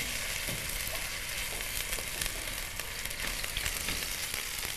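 Food fries in a pan with a steady, soft sizzle that holds throughout, with faint crackles and light stirring and no one speaking.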